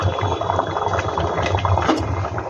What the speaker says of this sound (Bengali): কারণ মাংসটা সেদ্ধ হবে, তার সাথে আলুটাও সেদ্ধ হবে